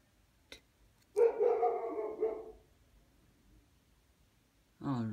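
A dog barks outside, one sustained bark-like yelp followed by another bark after a pause, moderately loud against a quiet room.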